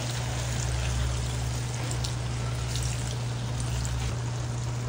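A little water is poured into a hot pan of tilapia and bottle gourd, producing a continuous hissing splash for several seconds, close and fairly loud.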